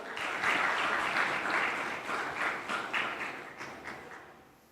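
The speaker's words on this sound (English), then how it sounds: "Can we please give a warm hand to our moderator for this particular session, Mr. Noah Kipkemboi?" Audience applause at a film and TV festival and awards event, welcoming a session moderator: a steady wash of clapping from a crowd, loud at first and gradually thinning out over a few seconds.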